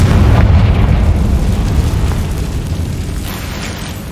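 A fiery spell explosion from the game Hogwarts Legacy, a loud deep boom that opens the clip and rumbles away slowly over several seconds, with no talk.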